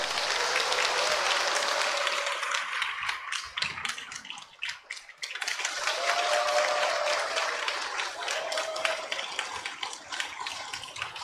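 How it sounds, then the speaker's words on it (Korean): Church congregation applause during a Sunday morning service in Iksan, a full, steady round of clapping that dips briefly midway then swells again, with faint voices rising over it. "여러분 큰 박수로 맞아주시기 바랍니다"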